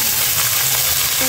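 Malabar spinach flowers fry in a pan with a loud, continuous, close sizzle and some stirring, without any voices.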